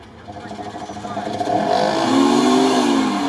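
An off-road race vehicle at an RFC Ukraine 2020 stage in swampy ground fires up its engine and revs hard, the pitch climbing and holding loud and close.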